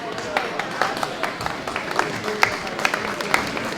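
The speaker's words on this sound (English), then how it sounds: "How about a round of applause for Kathy?" An audience at a lobster-themed event gives a round of applause, with scattered individual claps rising above a murmur of crowd voices and chatter.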